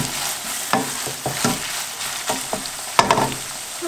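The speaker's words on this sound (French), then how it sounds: "je vais mélanger et faire cuire un petit peu l'ensemble pour 1 minute" Minced beef with garlic fries and sizzles in a pan for a Chinese-style dish, with a constant hiss broken by repeated scraping stirs of a utensil, close and clear.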